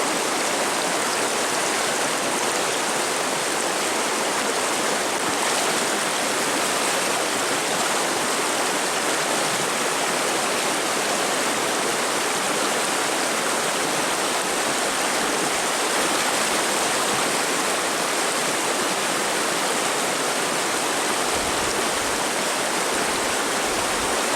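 A Central Pennsylvania trout stream rushes over rocks in a steady, loud, unbroken wash of water that fills the whole stretch without pause.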